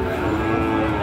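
Sindhi cross cow at a busy cattle market, a drawn-out low moo held across the whole moment, fairly close and steady, with crowd murmur and market noise underneath.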